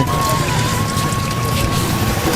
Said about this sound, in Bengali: এ সমস্ত ট্রলার মাছের ট্রলার